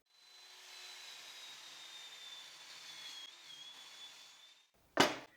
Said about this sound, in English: now I'll cut it to 11 centimeters wide